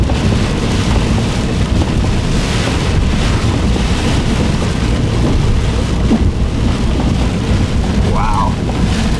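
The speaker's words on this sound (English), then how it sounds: "We have big time hail falling right now." Big hail pelts down in a severe storm outside Otis, Colorado, a dense, loud roar mixed with strong wind buffeting the microphone throughout.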